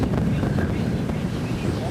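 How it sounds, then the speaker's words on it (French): Strong wind at sea buffets a boat, producing a constant loud rushing roar with low rumble and microphone buffeting that runs unbroken through the whole stretch. "En mer, le vent n'a pas faibli."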